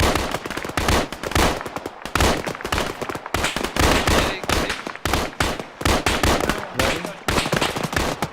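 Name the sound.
gunfire from an emplaced weapon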